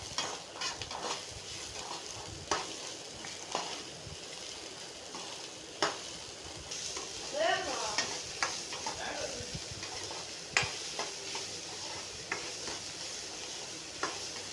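Chopped vegetables sauté on a low flame in a pan for rava upma, a soft, faint sizzle punctuated by regular scraping and tapping of a spoon as they are stirred.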